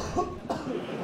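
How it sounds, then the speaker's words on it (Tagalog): A single muffled cough rises from a detainee in a crowded detention facility in Pasay, heard over a dense, steady room murmur. "Kaliwat kanan ng pag-ubo ng mga detainee ng PAOK Detention Facility sa Pasay."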